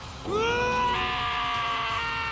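Scream in the video game Danganronpa Trigger Happy Havoc: a single loud, sustained high-pitched shriek that rises sharply and holds for about two seconds, alone without talk.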